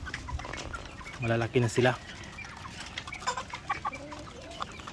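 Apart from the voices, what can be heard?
asil cross chickens clucking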